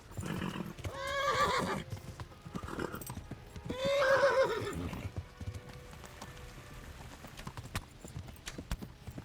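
A horse in the video game Kingdom Come: Deliverance whinnies loudly twice amid clattering hoofbeats and combat noise, the neighs rising and falling close up.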